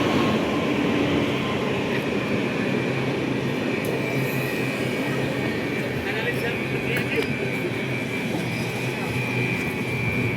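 A train pulls into a railway station with a loud, steady rumble of carriages and rolling wheels, plus occasional thin wheel squeals, continuing throughout with voices faintly mixed into the noise.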